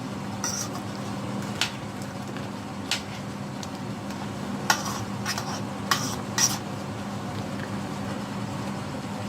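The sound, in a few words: stirring crab curry in a pot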